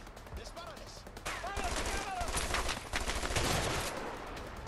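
Bursts of gunfire in the video game A Way Out, dense and loud over rumbling game sound, with a person talking at the start.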